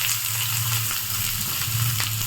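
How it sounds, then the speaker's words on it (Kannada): Chopped onions dropped into hot oil with cumin seeds, sizzling and frying loudly and steadily throughout, with a few soft stirring scrapes and no voices, for an egg curry. "ಇದಕ್ಕೆ ಕಟ್ ಮಾಡಿ ಇಟ್ಕೊಂಡಿರೋ ಈರುಳ್ಳಿ ಹಾಕ್ತಾ ಇದ್ದೀನಿ"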